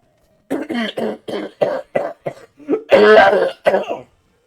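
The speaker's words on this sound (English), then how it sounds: "I just had a coughing fit out of nowhere." A coughing fit: a rapid series of harsh, close coughs in bursts, building to a louder, raspy cluster before trailing off.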